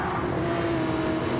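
Lexus and Porsche race cars circling a track, a steady droning engine note holding one pitch, heard at a moderate distance with no voices.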